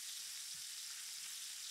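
Pieces of meat searing in a pot over medium heat, a steady close hiss of frying that holds evenly and softly throughout.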